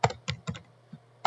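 Keys clack on a computer keyboard as someone types code for a spinning wheel game, four short clusters of crisp, close taps separated by brief pauses, with one faint tap in between.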